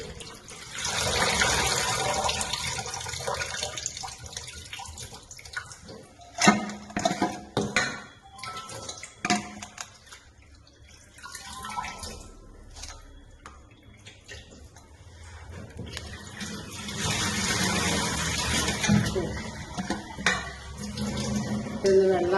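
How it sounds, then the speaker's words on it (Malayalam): Kuppa cheera greens are rinsed under running water, with the flow splashing loudly at first, easing and breaking into clatters midway, then rushing strongly again near the end. "നമ്മൾ വൃത്തിയായി കഴുകി"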